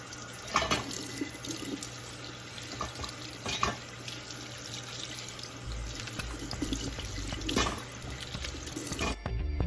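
Fresh radishes are rinsed under a running kitchen tap, with water splashing steadily into the sink and pattering over the vegetables for the whole stretch, no voices.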